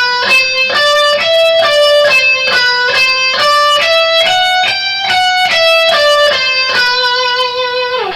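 Electric guitar plays a note pattern slowly, each distinct note stepping up and down in an even, deliberate rhythm, loud and clear with no talking.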